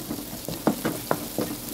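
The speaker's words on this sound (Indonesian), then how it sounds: "Sini sudah siap minyak, masukkan aja langsung bawangnya." Onions go into hot oil that was just used to fry potatoes and broccoli, giving a soft, steady sizzle with a few louder spatters and stirring scrapes at close range.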